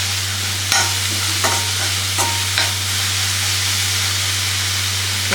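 Jaggery melting into grated coconut filling for kolukattai is stirred in a pan, with steady soft scraping and sizzle, a few sharper spoon knocks against the pan, and a constant low hum beneath.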